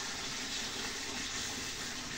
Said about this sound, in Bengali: আমি একটু পানি দিয়ে দিই।